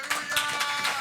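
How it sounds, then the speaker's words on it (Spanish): A church congregation claps in a quick, steady rhythm, several sharp claps in a row, moderately close but fairly soft. "Denle un aplauso bien fuerte al Señor."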